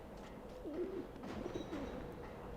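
Pigeons cooing in a coop in the video game Alice Madness Returns, a few soft low coos over a steady ambient hum.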